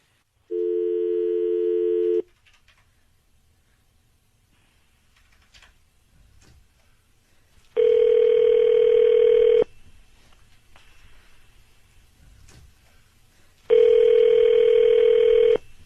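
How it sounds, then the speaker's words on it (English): A telephone dial tone sounds alone in three loud, steady bursts of about two seconds each, separated by quiet gaps with faint clicks, as a prank caller from a flower shop dials out. "dialing him up now"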